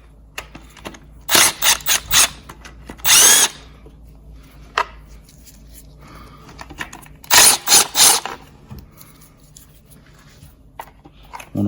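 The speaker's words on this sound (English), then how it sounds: "we're gonna remove this lower timing cover here. These are 10mm. Little shoulder bolt." A power tool spins out the 10mm shoulder bolts on the lower timing cover of a 3.4 L Toyota 4Runner: a handful of short, loud whirring bursts, close up, separated by quiet gaps with faint clinks.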